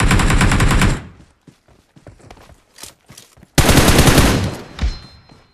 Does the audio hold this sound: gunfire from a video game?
yes